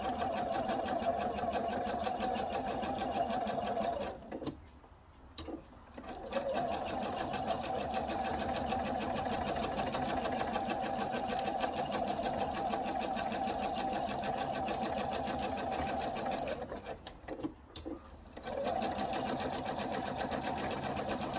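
A sewing machine stitches along the edge of a conical quilted peg bag in steady, continuous runs, stopping briefly twice before starting up again.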